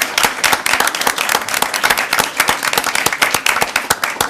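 Audience applauding volunteers at a town select board meeting: dense, steady hand clapping from a room of people, close and continuous throughout.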